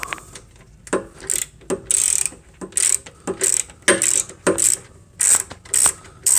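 A hand ratchet loosens a bolt on a Monster Moto 1000 minibike during an electric-to-gas conversion: close, sharp clicking in repeated bursts of a few strokes, with short pauses between each swing.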